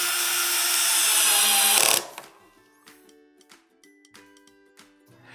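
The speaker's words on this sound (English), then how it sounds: "then we will install the third screw" A power driver whirs loudly and steadily for about two seconds as it tightens the third screw on a VertDesk wire management tray, then stops. Light clicks and handling noises of the assembly follow.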